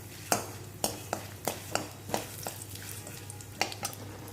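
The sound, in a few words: chana dal frying and being stirred in a pan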